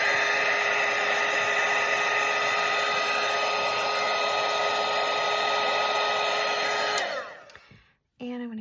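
A handheld hair dryer blows a steady, loud whirring hum over a watercolour painting of a parrot, then winds down and switches off, with a short burst of its motor starting again at the end.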